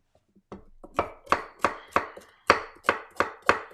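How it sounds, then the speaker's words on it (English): Carrots are chopped with a knife on a cutting board, a few soft taps and then a steady run of about nine crisp, evenly spaced chops, close and clear with no talking. "So I'm chopping up some carrots here."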